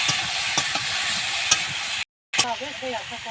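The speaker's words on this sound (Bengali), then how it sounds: "ভালো করে একটু ভেজে নিচ্ছি" Small taro seasoned with salt and turmeric frying in a pan, a close hissing sizzle with stirring taps, a brief cut, then a voice speaking over the frying.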